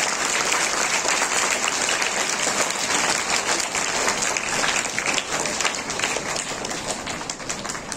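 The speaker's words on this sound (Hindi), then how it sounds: "मैं सभी से आग्रह करूंगा कि जोरदार तालियों से हमारे सेवा कर्मियों का स्वागत करें" Loud, sustained applause from a large crowd at a Labour Day celebration, welcoming service workers with dense, steady clapping that holds for the full stretch without a break.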